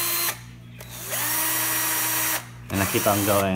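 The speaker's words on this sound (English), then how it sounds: "So I'm gonna use the power tools." A power drill whirs in short bursts while driving into a door during a Vive doorknob installation, with a pause between runs and a voice speaking over the final burst.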